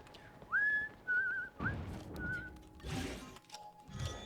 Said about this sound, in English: I'm definitely not at no professional whistler level